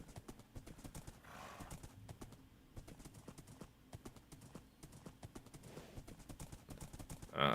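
Galloping hooves clip-clop in a steady, quick rhythm from a horse in Minecraft on open plains, with a brief whinny, continuing throughout at moderate loudness.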